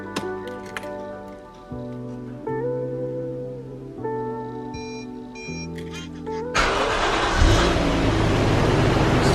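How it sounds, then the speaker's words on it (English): A Toyota 1JZ-GTE VVTi engine in a JZX100 Mark II starts and idles: steady low harmonic hum from the running motor with a few faint clicks, then a sudden loud broadband rush as it fires up and keeps running strongly. "this sounds like a very, very healthy 1JZ GTE VVTi"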